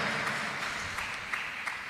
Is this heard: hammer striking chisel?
no